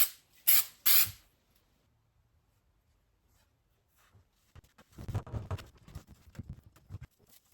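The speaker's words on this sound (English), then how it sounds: "I think we'll just start like kind of spray half of it." Three short, sharp hissing bursts of an aerosol adhesive spray onto a carbon fibre snowmobile part mold, close by, followed by quiet and then rustling, handling noises.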